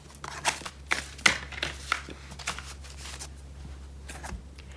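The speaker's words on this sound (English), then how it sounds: "These have been well shuffled." A deck of tarot cards is shuffled close by, a quick run of papery riffles and soft slaps with an uneven rhythm over a steady low hum.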